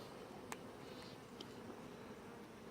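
Honeybees hum from an opened pre-swarm hive, a faint, steady buzzing with a few brief louder passes, no voices.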